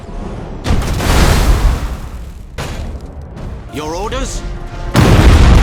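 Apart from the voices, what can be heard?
Thunderhawk bombardment explosions in video game Battlefleet Gothic: Armada 2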